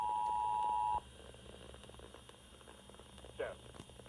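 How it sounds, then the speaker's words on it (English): Emergency Alert System tones for a Pennsylvania statewide required monthly test: a steady electronic tone runs about a second, then cuts off, leaving low hum with a brief chirp later and faint background voice. "This is a statewide required monthly test of the emergency alert system"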